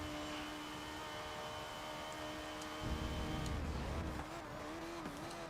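Race car engine in Forza Motorsport 7 downshifting to first gear, a steady droning tone that breaks into a rough, wavering rev change midway, fairly quiet with no talking.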